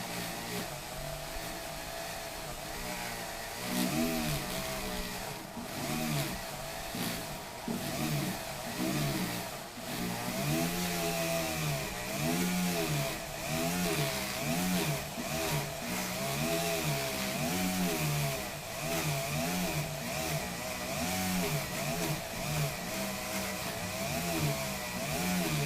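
A steady, loud electric drill whine grinds on continuously while cutting metal, its pitch wavering slightly as pressure changes, with a harsh metallic cutting edge.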